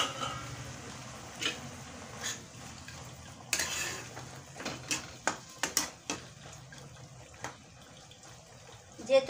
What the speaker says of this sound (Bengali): আমি চানাগুলো সামান্য পরিমাণে একটু জল দিয়ে দিচ্ছি